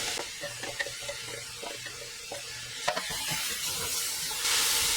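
Drained tomatoes going into a pot of toasting spices for chicken coconut curry, giving a soft steady sizzle with scattered stirring clicks and scrapes, then a louder hiss of steam swelling near the end.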